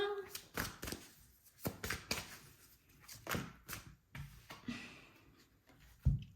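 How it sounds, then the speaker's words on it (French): Cards from an oracle deck being handled and drawn, giving a run of soft close shuffling and flicking taps with brief pauses, a light thump at the end. "j'ai envie de tirer encore une carte."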